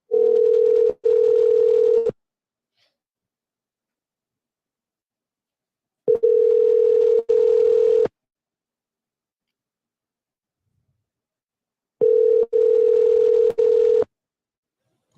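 Telephone call going unanswered: three identical bursts of a steady ringback tone, each about two seconds long, separated by four-second silences, clear and close with no talk.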